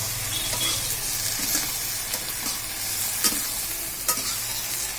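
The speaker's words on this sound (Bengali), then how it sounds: "এবার একটু নেড়ে নিই" Spoon stirring chicken curry in a cooking pot over steady sizzling, with a few scraping knocks against the pot, close up and without talk.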